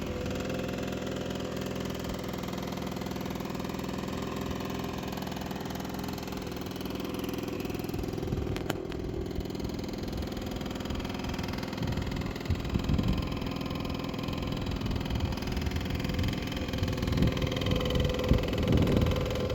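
A cheaply rebuilt Aprilia SR50R 50cc scooter engine runs steadily at idle, a close, continuous buzzing drone with slight rattly knocking that grows a little rougher toward the end.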